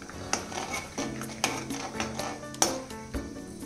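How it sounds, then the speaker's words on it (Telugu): A cup of peanuts being dry-roasted in a metal pan while stirred, with a steady series of scraping, rattling clinks from the spoon against the pan, close and fairly loud, no talk. "ఇప్పుడు 1 కప్పు పల్లీలు వేసి బాగా వేయించుకోవాలి."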